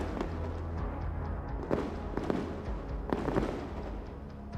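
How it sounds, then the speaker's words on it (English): A Bradley's 25mm cannon fires at a T-90 tank, heard as several sharp, muffled bursts spaced a second or so apart over a steady low rumble, fairly distant. "The Bradley opened fire with its 25mm cannon, striking the tank again and again."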